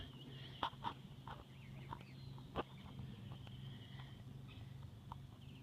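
Birds chirp and call intermittently in a backyard, faint and somewhat distant, with a few sharper knocks and a low steady hum beneath.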